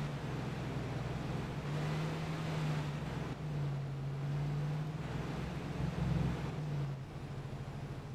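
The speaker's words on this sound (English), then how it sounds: "It feels like it's got like a one cylinder engine." A vehicle engine in the video game Arma 3, sounding like a single-cylinder unit with only one gear, drones loudly and steadily throughout with a low, buzzy pulse and slight swells in pitch.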